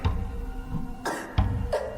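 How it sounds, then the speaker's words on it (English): A sputtering cough in an audio drama, a few short ragged bursts of coughing close and fairly quiet, separated by brief pauses. "A sputtering cough, then a ragged breath drawn in like a cello note came from the bathroom"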